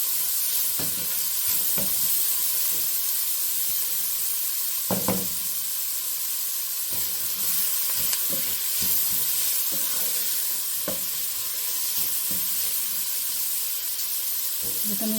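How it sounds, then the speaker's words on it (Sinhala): Ginger and green chilli frying in hot oil in a home kitchen, with a steady sizzle and hiss running throughout, broken by scattered knocks and scrapes of stirring, close and moderately loud with no voices. "අමු මිරිස් හොඳට දාලා මේක හොඳට මික්ස් කරගෙන මේක තෙලේ බැදෙන්න දෙන්න ඕන"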